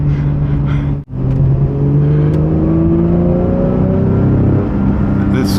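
A 2024 Porsche GT3 accelerates hard on a track, its engine note rising steadily through the revs in a loud, close, continuous pull, briefly cut near the start.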